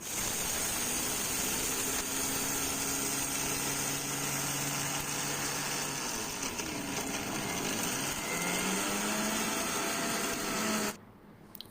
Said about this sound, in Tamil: இது எல்லாத்தையும் நம்ம ஒன்று அரைச்சி எடுத்துக்கலாம்